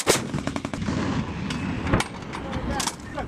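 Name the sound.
M777A2 howitzer artillery firing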